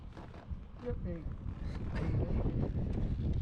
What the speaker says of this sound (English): 50 knots coming up here, parts of it, so lots of wind